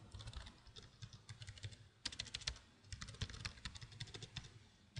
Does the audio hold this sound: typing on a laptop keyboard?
yes